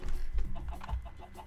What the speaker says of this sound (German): Jetzt ist schon wieder ein Huhn.